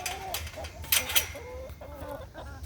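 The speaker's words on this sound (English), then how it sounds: "Chickens, they like to peck my knees." Several chickens cluck close by in short, irregular bursts, with a few sharper squawks in the middle.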